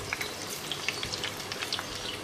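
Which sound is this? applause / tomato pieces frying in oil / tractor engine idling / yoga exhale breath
tomato pieces frying in oil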